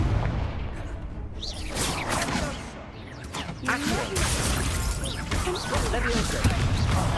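In Hogwarts Legacy the Incendio fire spell goes off in repeated bursts of whooshing flame and booming impacts amid the clash of a duel, with a voice speaking over the action.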